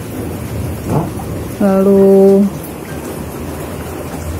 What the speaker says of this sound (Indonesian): Lalu hujannya tuh petir.